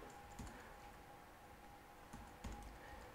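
Someone types on a computer keyboard in quiet, faint, irregular clicks, with a few slightly sharper taps and no talking.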